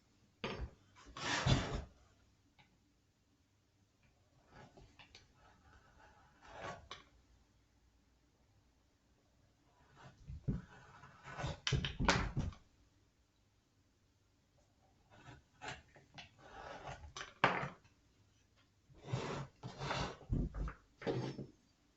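A kukri knife chopping roughly one-inch sections off a piece of material: several bursts of close, sharp chopping and cutting impacts in clusters, separated by quiet pauses, with no talk.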